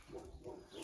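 Brief, fairly faint clucking from a rooster in a large poultry enclosure, a couple of short throaty calls in quick succession.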